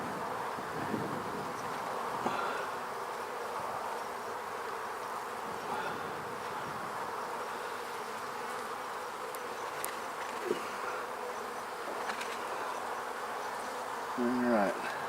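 Honeybees buzzing around an open hive during a beekeeping inspection with smoke, a steady close drone of many insects with occasional louder passes and faint handling noises.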